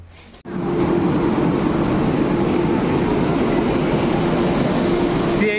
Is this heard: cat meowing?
no